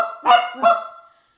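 Two short honking calls blown on a goose call, close and loud, the second following quickly after the first.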